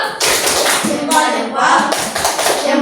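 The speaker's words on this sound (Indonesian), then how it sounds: "Kasih tepuk jempolnya untuk kelompok 3." A classroom group gives a rhythmic thumb-clap cheer for one team during a school lesson, a close, loud tapping of hands mixed with children's voices.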